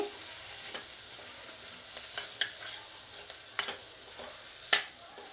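Onions and chili powder frying in a pan for chutney, a quiet steady sizzle broken by occasional sharp crackles and spoon scrapes.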